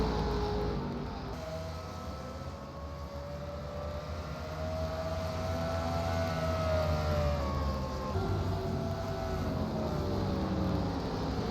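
A wailing siren signals a caution during a 2008 truck series race at Memphis, with several rising and falling tones overlapping at moderate volume over a low rumble, no voices.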